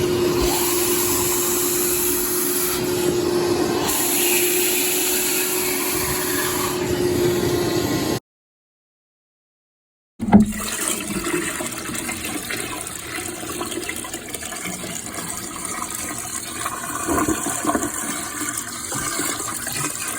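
A shop vacuum sucks standing water out of the rear cargo area and back carpets of a 2006 Chevy Equinox, a loud steady whine with gurgling slurps, cut by a brief silence before the motor roars back up.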